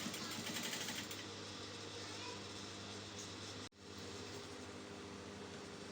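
A sewing machine hems a long strip of fabric for a flared umbrella shift dress, running in a steady continuous whir with a brief pause near the end, under faint background noise.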